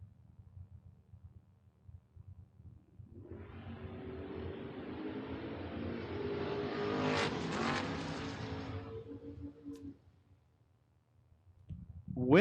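At a Door Wars drag race, a Mustang and a pickup launch and roar past from a distance, engine noise swelling to a peak and fading away, with a faint hum before and another car arriving at the end.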